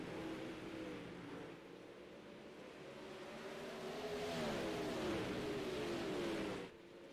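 Sprint car engines in iRacing scream past in a 360 sprint car race, rising and falling pitches overlapping as cars accelerate around the track, then cutting off abruptly near the end.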